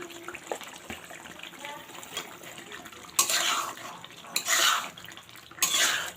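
Large snakehead fish pieces added to a pan for a curry with kumro bori, with clattering pot and utensil scrapes and stirring bursts that grow louder toward the end over a soft background of kitchen noise.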